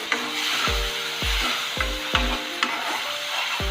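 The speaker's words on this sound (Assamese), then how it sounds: "আৰু ভালদৰে ভাজি ল'ম।" Spice masala with onions sizzles steadily in a pan while a spoon scrapes and stirs in about five regular strokes, close and fairly loud with no talking.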